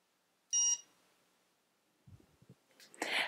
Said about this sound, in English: press the button marked by the minus sign and the collar will beep